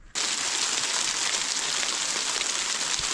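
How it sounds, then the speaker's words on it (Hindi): Hail falls on a mountain meadow in the rain, a dense, steady hiss of pellets striking ground and grass that starts abruptly and stays loud throughout. "यहाँ ओले पड़ने लग गए हैं"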